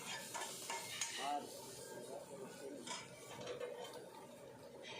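Garlic frying in a hot pan gives a soft, continuous sizzle with occasional scraping and stirring of a utensil against the pan, close but quiet.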